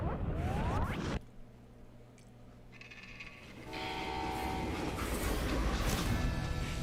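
A freight train in the Western video game Call of Juarez Gunslinger rumbles loudly, cuts off abruptly, then its steady rolling clatter and metallic ringing build back up and continue at full volume.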